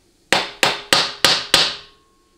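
A hammer smacks a 4L80E automatic transmission part down onto its deck surface, five sharp, evenly spaced loud strikes at close range, each ringing briefly before fading.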